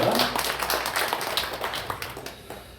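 A church congregation applauds to welcome children at a Sunday worship service, a room full of hands clapping that fades gradually, with speech faintly over the top.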